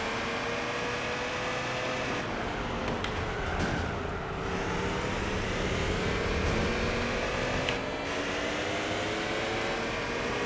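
Shelby car engine in the racing game Gran Turismo 4, a steady, sluggish drone with layered rising and falling harmonics as it accelerates, constant and moderately loud throughout with no talking.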